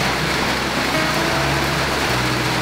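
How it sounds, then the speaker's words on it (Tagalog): Rain falling at a base camp during the rainy season, a steady loud hiss of dense drops with a low background hum, continuous and without voices. "Hindi pa tapos ang base camp, umuulan na."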